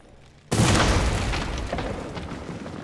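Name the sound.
explosion in video game The Witcher 2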